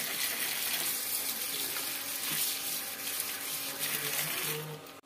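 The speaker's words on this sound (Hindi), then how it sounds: "टमाटरों को लेंगे धो, बड़े मज़े के रेड रेड आए हैं टमाटर।" Tomatoes are rinsed under a running kitchen tap, producing a steady, fairly loud rush and splash of water that continues without a break for about five seconds, with no talking.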